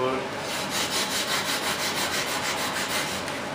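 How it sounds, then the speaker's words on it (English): Hand sanding a bevel onto the outside edge of a part held against a hardwood block while building a large model F-18 turbine jet, producing steady rhythmic rasping strokes, close and fairly loud, with no talk over it. "Gotta bevel the outside edge, so we're gonna put that on another piece of hardwood."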